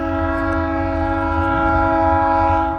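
A train passes a rebuilt railroad crossing fitted with gates and lights, its horn sounding as a long, loud, steady chord over continuous rumble throughout.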